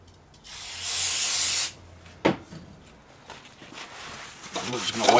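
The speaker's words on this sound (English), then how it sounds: "We're just going to wipe that until all the black is gone." A short aerosol spray hiss onto a rag, then a sharp knock and soft rubbing sounds of the rag wiping a snowblower's metal brake disc, close by.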